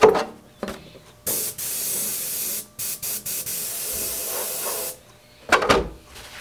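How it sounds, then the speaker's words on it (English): Airbrush spraying paint on an RC body, several hissing bursts of varying length separated by pauses, close and clear, with no talking. "I haven't used this airbrush in a while."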